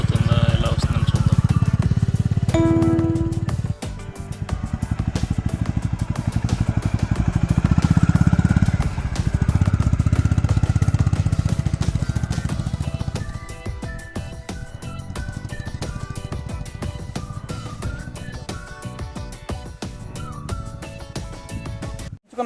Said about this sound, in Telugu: సో దాని మీద వస్తే మనకి బైక్ ఏమైనా స్కిడ్ అవుతుందా, ఎలా వస్తుందని చూద్దాం.